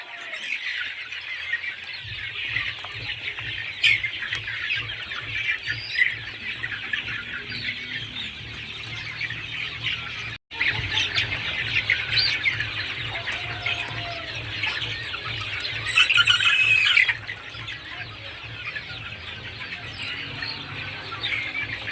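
Kadaknath and other chickens cluck and squawk while feeding, a busy close chorus of clucks and squeals over rapid rhythmic pecking, growing briefly louder near the end.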